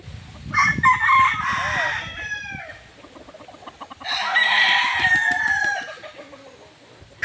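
Gamecock roosters crow loudly in two long, strained calls close by, with steady clucking and hen chatter underneath between them.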